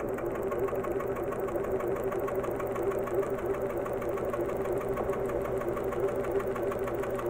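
APQS longarm quilting machine stitching across a quilt, a steady, close mechanical hum with rapid rhythmic needle chatter running unbroken throughout.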